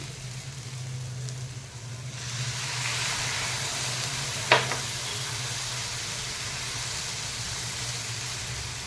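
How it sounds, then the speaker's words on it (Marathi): A hot pan bursts into loud, steady sizzling after a couple of seconds as milk is poured in for sweet potato halwa, and keeps hissing, with one brief clink midway. "यामध्ये मी आता दूध घालून घेणार आहे"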